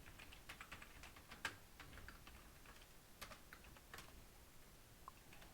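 Quiet, steady typing of code on a computer keyboard, a run of light key taps with a few louder clicks, close to the microphone and heard alone without talk.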